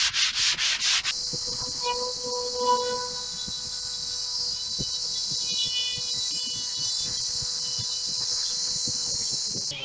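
Close, steady hand sanding of a wooden tongue aboard a wooden boat, a continuous rasping rub with rhythmic strokes after a few sharper opening scrapes, no talking.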